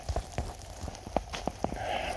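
Rain falling outdoors on a wooded lot being cleared of logs, brush and stumps, with scattered close drops tapping on surfaces over a steady soft patter, fairly faint and without talk.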